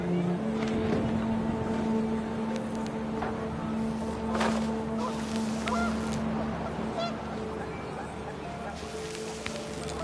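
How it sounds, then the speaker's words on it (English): Panicked geese honk in the game What Remains of Edith Finch, a few sharp honks rising over a steady windy rumble, with a voice talking underneath. "The wind picked up, and panicked geese appeared and quickly went."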